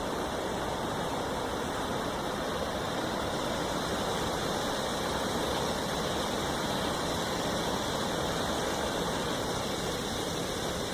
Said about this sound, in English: Comes off from a brook in the distance